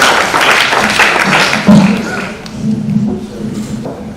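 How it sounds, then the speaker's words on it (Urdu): Clapping from an audience at a naat recitation competition, a burst of hand claps that thins out and fades, with some thumps and background murmur underneath. "زوردار تالیاں بجائیں"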